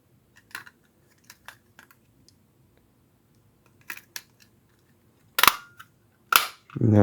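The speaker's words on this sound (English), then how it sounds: "Now I'm going to try putting this housing on." A plastic computer mouse housing is pressed back into place, with a series of sharp, close clicks and snaps, some in quick pairs. Two louder clacks and a rustle of handling come near the end.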